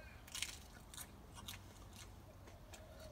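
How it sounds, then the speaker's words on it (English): A few soft, crisp crunches of fresh lettuce being bitten, quiet and close with pauses between bites. "You may be able to hear they're very, very crunchy and quite delicious."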